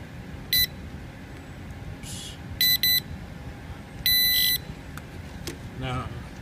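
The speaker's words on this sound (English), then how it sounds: "I have a beep to signify the robot is ready to go." Several short high-pitched electronic beeps from a fire-fighting robot signaling it is ready, in a quiet room: a single beep, a quick double beep, then a longer beep burst, with a faint voice near the end.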